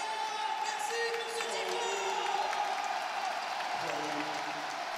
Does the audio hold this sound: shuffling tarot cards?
no